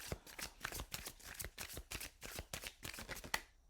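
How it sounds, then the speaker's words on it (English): Repeated rapid riffle shuffles of a deck of cards, crisp fluttering bursts one after another, close up with no talking. "I'm going to shuffle and do a rifle one more time, a couple more times here."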